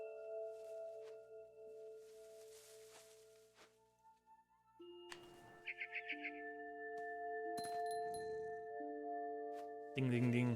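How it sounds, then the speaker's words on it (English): A tiny bell on a cat's collar jingles in What Remains of Edith Finch, a quick run of light, rhythmic tinkles sounding among soft chimes and tones in a quiet scene. "Little bell on her collar."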